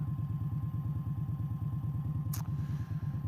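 A motorcycle, a roughly 800cc bike out on a ride near Navan, thrums with a steady, rapid low engine pulse throughout, with one short sharp click or knock near the end.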